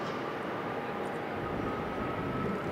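A Qantas airliner, flight QF19, departs Sydney for Manila, heard as a steady, faint engine roar with a broad wash of noise from far off, with no voices.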